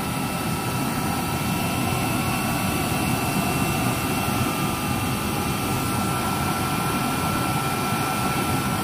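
A used-oil stove burner fitted with a new 28-hole nozzle roars loudly and steadily at close range, a continuous dense rushing blast with no pauses.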